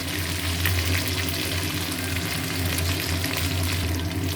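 Fish frying in a ginger and cumin spice paste, a loud, dense and continuous sizzle that holds steady throughout, close up, with no voices.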